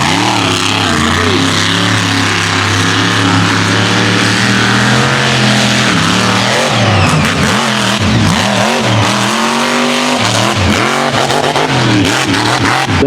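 A mega truck racing in mud in West Virginia roars loud and close. The engine revs hard and pitch swings up and down as the throttle rises and drops, with no voices.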